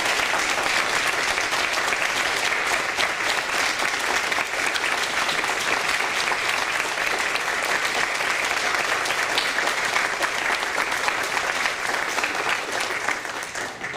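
Sustained audience applause fills a handbell concert hall at a spring concert, a steady dense wash of clapping from many hands that holds level throughout and tapers slightly at the very end.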